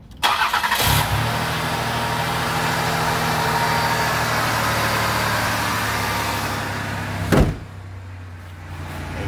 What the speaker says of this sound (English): It's a cold start of a 1989 Buick Reatta.